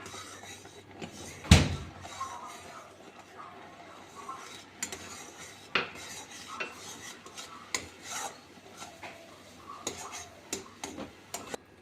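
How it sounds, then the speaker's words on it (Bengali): Semolina being stirred into boiling milk in a pot, with soft scraping and rasping strokes of a spoon and one sharp knock near the start, fairly quiet and without talk. "এবার আমি অল্প অল্প করে সুজি দিয়ে নেড়ে নিব যাতে দলা না পেকে যায়"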